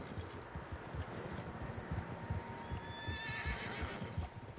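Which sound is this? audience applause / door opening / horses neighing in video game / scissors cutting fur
horses neighing in video game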